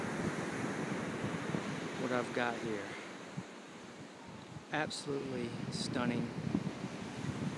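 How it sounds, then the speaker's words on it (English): Ocean waves wash onto a beach near Ocean Drive on an evening shore, a steady rushing surf heard under a person talking throughout. "I don't know if you can hear the waves in the background."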